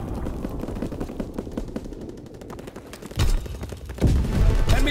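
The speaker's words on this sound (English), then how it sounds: "Enemy flak incoming." Enemy anti-aircraft flak fire in Call of Duty WWII, rapid repeated gunfire with heavy booming bursts punctuating it, loud and close.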